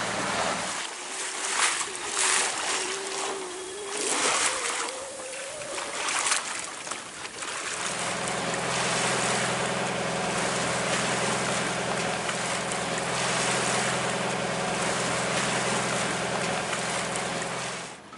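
A sailboat motors under engine through warm Caribbean water near Guadeloupe, a steady broadband wash and engine drone that grows fuller and constant after the first few seconds, with a faint rising tone early on.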